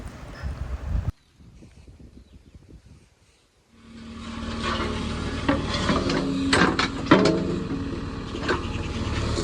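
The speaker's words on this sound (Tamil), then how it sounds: "அந்த பின்னை போட்டு அந்த ஓட்டையில் போட்டு அடித்து விட்டுறணும்" Heavy metal-on-metal hammering as a large steel pin is driven into the attachment hole of a JCB excavator, sharp irregular strikes ringing over engine rumble after a quiet start, close and loud.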